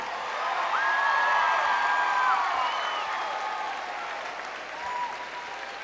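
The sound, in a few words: applause from school assembly audience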